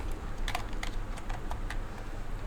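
Close, quiet clicking of keys as a name is typed on a computer keyboard, a quick uneven run of taps over a steady low background hum.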